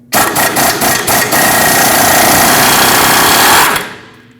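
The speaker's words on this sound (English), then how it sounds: "now use a 22mm socket and remove this mounting nut" A power impact tool with a 22mm socket rattles off the upper control arm mounting nut on a 2005-2021 Nissan Frontier 2WD, a loud sustained hammering burst with a few short pulses first, then a fade.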